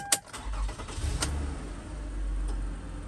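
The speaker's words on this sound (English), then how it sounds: "And start it up." A second-generation Toyota Kluger (Highlander) starting on level ground: a brief starter burst, then the engine catching and settling into a steady low idle rumble, close by, with no talk.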